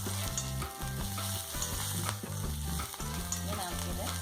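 Curry leaves hitting hot oil in a pan of sautéed onions for a Kerala-style vanpayar curry, giving a loud, steady sizzle with stirring clatter throughout and no voices.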